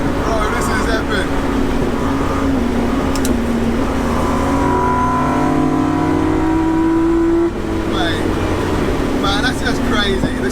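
A BMW E30 with a 2.9L stroker engine and individual throttle bodies revs hard, loud and close, its pitch climbing through the rev range before dropping off and building again, with people talking over it.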